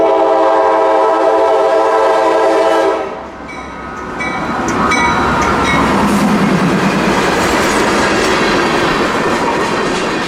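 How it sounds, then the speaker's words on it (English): A train horn sounds with long steady tones before a train rolls through a railroad crossing, its loud rumbling and clattering wheels filling the rest of the time up close. "train is coming toward the crossing and to keep flashing and ringing"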